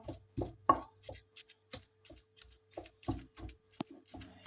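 Dull, close thuds of a pestle pounding cooled shami kabab mixture of tender cooked meat and lentils in a mortar, struck in an uneven rhythm of about a dozen blows with brief pauses and no talk.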